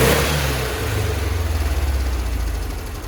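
1966 VW Split Bus engine with dual carburetors on a road test, a loud, close, throbbing engine note that revs and then settles into a steady, pulsing drone.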